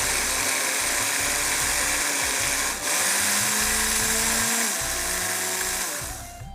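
An electric grinder runs continuously and loudly, finely grinding masala for hunter beef, its motor whine rising and dipping in pitch as the load shifts, then winding down at the end.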